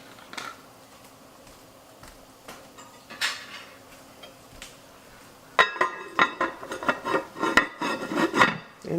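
A pot-roast pot is covered and slid into the oven, giving quiet clinks and scrapes at first, then a denser run of loud metal clanks and rattles of pan and rack near at hand, with no talk.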